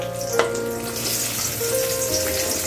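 Chopped onion dropped into hot oil for a Bengali-style cabbage fry, a soft continuous sizzle with a brief clink near the start and faint background hum.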